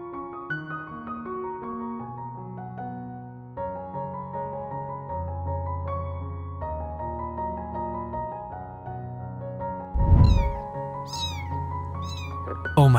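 A trapped cat meows loudly several times near the end over a steady bed of music.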